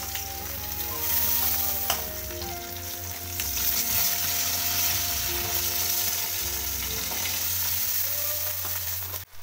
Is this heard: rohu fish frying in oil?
yes